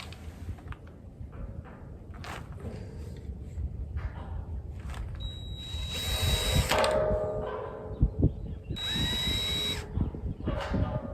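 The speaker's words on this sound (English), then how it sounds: "We'll drill our pallet hole." A power drill bores a hole in a wooden pallet in two short whining bursts separated by shuffling, clunking handling noises close by.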